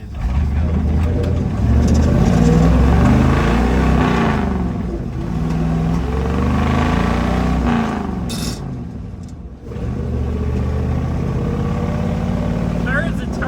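A truck engine drives along a road, a steady loud low rumble with rising and falling revs as the gears change, under occasional voices inside the cab.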